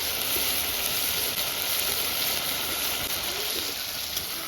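Onion, garlic, ginger and chilli paste sizzling steadily in hot oil with salt, a continuous even crackle and hiss close by, unbroken for the whole stretch.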